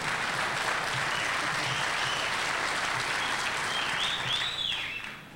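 An audience applauds steadily at a firefighter of the year award presentation, a dense, even wash of many hands clapping that holds throughout and fades slightly at the end.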